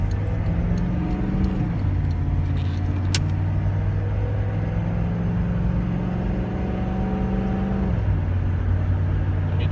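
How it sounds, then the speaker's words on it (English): A GMC Suburban diesel engine idles steadily with a low, even rumble and a faint hum that dips briefly now and then, close and continuous with no talk. "Very quiet for a diesel engine as well."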